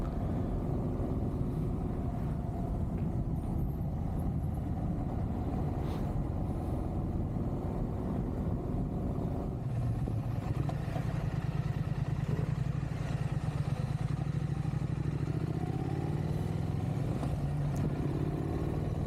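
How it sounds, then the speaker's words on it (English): A Triumph motorcycle rides along a country road, its engine droning steadily with wind rush throughout, the tone deepening slightly partway as the pace changes. "Triumph is just such a sweet bike to ride."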